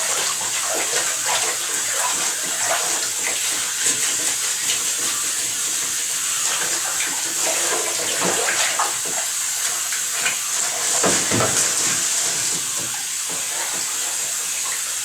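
An object being washed under a steady stream of running tap water, with continuous splashing and hiss for the whole stretch and brief louder gushes; no talking.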